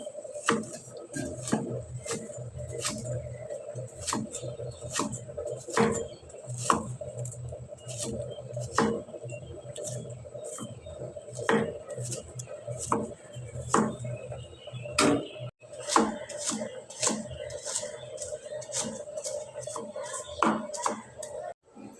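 An onion is chopped finely with a knife on a board, with a long run of quick, regular, fairly close taps that continue almost without a break.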